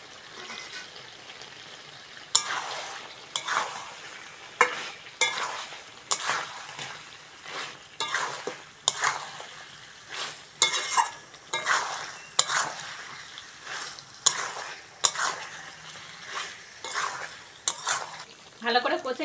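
Chicken curry with fried potatoes sizzles in a pan while a spoon scrapes and stirs in a steady rhythm of repeated strokes, close and clear, with no talking.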